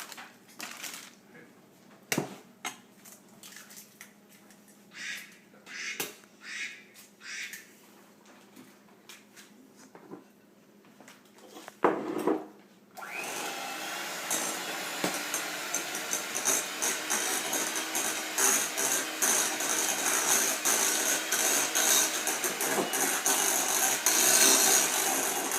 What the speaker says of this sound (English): we're going to mix that for 2 minutes on medium speed with the hand mixer